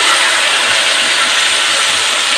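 Kashmiri chili powder paste, mixed with hot water, sizzles loudly in hot oil as one dense, continuous hiss close up, with no pauses.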